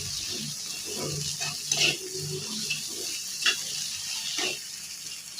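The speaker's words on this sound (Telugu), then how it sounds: "ఈ స్పూన్తో ఒక స్పూన్ పల్లీలు పొడి వేసుకోవాలి. ఒకసారి ఇలాగే కలుపుకోవాలి." A spoon stirs peanut powder into tomato chutney with nalleru stems, scraping softly against the pan in a few slow, uneven strokes over a faint background sizzle.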